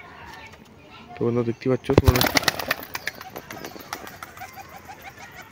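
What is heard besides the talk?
pigeon released, flapping wings and cooing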